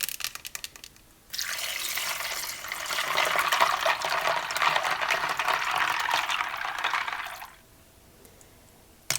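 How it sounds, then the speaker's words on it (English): Water poured from a tap into a bowl of ice for an egg ice bath, a steady rushing fill that starts after a brief pause, runs for about six seconds, then cuts off, heard close and alone. "And you're going to add water, so you get a nice ice water kind of bath for these very hot eggs."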